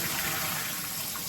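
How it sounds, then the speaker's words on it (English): Rinse water is drained off groundnuts, pouring in a steady, loud rush of splashing liquid that continues throughout without pause. "Drain a little bit of water there."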